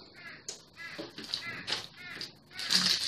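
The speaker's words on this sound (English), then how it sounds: "My crow friend is out there." A crow caws repeatedly outdoors, a series of harsh calls spread across a few seconds, moderately loud and clear with no talking over them.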